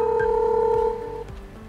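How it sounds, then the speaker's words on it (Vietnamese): A Dahua indoor video intercom monitor rings after the door station's call button is pressed, giving a steady electronic telephone-style tone close by that holds for about a second and then drops to a quieter trailing tone. "Khi bấm vào biểu tượng nút chuông thì màn hình ở trong nhà sẽ đổ chuông."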